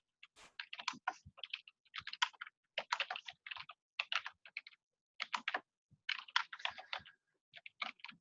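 Bursts of computer keyboard typing in quick, uneven clusters of clicks, close and clear with short pauses between runs, no voices.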